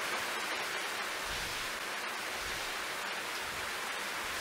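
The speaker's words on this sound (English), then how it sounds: "It started to rain." A rain sound effect from a video game: a steady, even hiss of rainfall holding constant throughout, with no speech.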